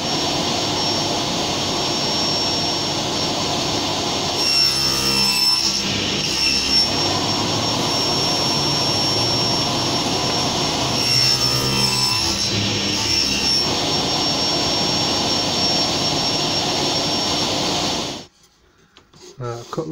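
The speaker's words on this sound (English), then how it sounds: "I'm going to cut some ply to wrap around it." Plywood being cut with a loud, steady whining power saw that runs continuously for most of the time, with brief dips in pitch as it bites, then stops abruptly near the end.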